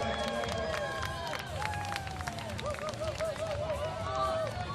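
A race-day crowd at a supertri League triathlon in Boston cheers and claps at the start, with spectators chattering and calling out, and a commentator talking over the steady noise.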